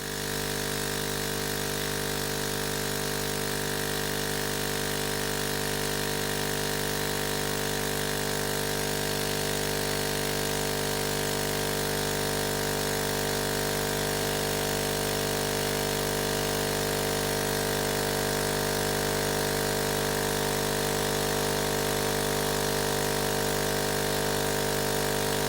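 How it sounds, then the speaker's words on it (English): A laser engraver's air assist diaphragm pump runs without pause, its piston shuttling back and forth in a dense, even, loud mechanical drone and buzz. "So most of the noise is coming from the middle of the pump"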